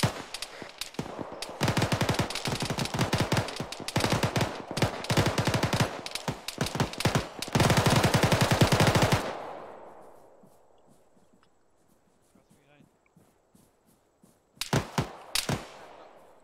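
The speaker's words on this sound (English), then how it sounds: "Still more shots up there" Sustained automatic gunfire in the military shooter ArmA 3 crackles in rapid, dense bursts for several seconds, then stops and leaves a fading tail and near quiet, before a short final burst of shots.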